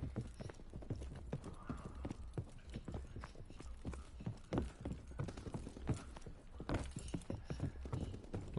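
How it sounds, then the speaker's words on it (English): Rapid footsteps in a video game patter on constantly as a dense, uneven run of clopping steps, fairly quiet, with no speech over them. "I hear all these footsteps, bro."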